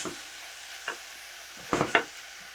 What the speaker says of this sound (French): Je vais aller brasser de temps en temps pour aller uniformiser la caramélisation